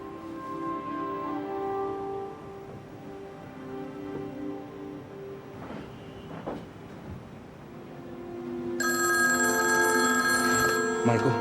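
A telephone bell rings repeatedly in a home amid a tense confrontation, the ring growing louder and fuller near the end as it keeps going under the scene's background noise.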